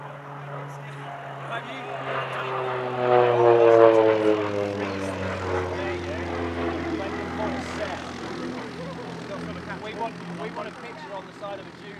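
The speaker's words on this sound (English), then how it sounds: "Next up, the Bronco, starting with an aileron roll" An OV-10B Bronco twin-turboprop rolls through an aileron roll at an airshow, its propeller drone rising to a loud peak and then easing off, with a voice talking over it.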